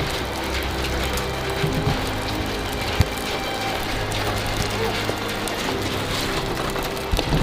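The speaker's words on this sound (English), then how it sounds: "And it's also starting to hail." Rain and hail pelting a car on a mountain road during a storm, a dense, steady patter with occasional sharper ticks of hailstones, loud and continuous throughout.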